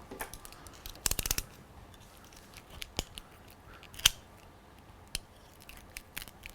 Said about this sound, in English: You can just cut the ski rope with any utility knife, that should be fine.